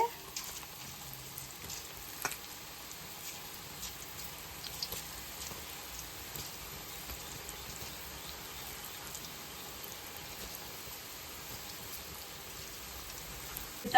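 Onion pakodi frying in hot oil, a faint, steady crackling sizzle with scattered small pops running unbroken throughout, heard close and alone.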